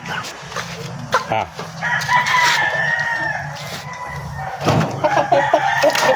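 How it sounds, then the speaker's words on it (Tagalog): Broiler chickens cluck busily nearby on a farm while a rooster crows in the middle, with scattered rustling and other birds around. "Tingnan natin ating mga manok."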